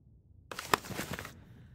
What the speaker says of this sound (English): Sorry, was sneezing there.